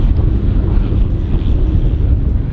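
Strong wind roars against the microphone during a mountain blizzard, a dense, rumbling buffet that stays loud and unbroken from start to finish.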